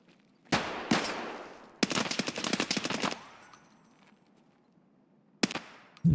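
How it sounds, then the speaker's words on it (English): Gunfire in the video game Single Player Tarkov: a couple of loud shots, then a rapid automatic burst with metallic rattle, a quieter lull, and further shots at the end. "Who's shooting?"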